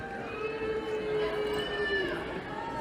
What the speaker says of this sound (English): Oh, someone's booing.